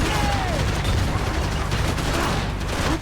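Shotgun gunfire in a Max Payne 3 firefight, a dense, continuous barrage of loud shots and rumbling impacts that keeps up throughout before easing slightly at the end.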